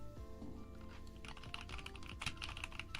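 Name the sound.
typing on a clacky computer keyboard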